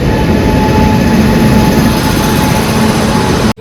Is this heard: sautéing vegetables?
no